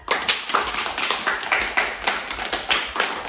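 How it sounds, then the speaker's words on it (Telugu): A group of students at an arts school claps together nearby, producing bright, uneven bursts of clapping that pulse for a few seconds. "all of you big clap"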